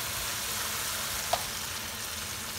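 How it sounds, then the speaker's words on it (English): Spices with garam masala sauteing in a pan, giving a steady, even sizzle with no talk and one tiny click partway through. "So just saute this thing a little bit down."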